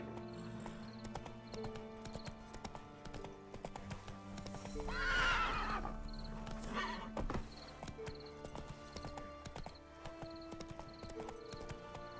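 A horse gallops in The Witcher video game, with steady clip-clop hoofbeats and a loud neigh partway through over a continuous game music and ambience bed.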